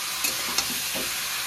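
Stirring spiced masala paste with a little water in a pan for a Bengali mourala fish curry cooked in very little oil; soft, sparse scraping and faint sizzle with a few brief clicks of the utensil, quiet and close, no talk.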